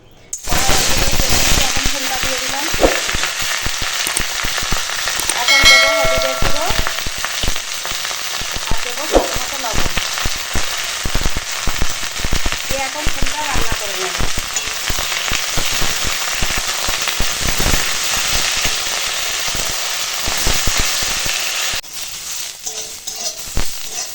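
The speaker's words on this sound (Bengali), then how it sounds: "এখন কুমড়ো ফুলখানা ভাজা হয়ে গেছে" Pumpkin flowers deep frying in hot oil, a dense, loud, crackling sizzle that runs steadily for over twenty seconds with occasional stirring scrapes, then cuts off near the end.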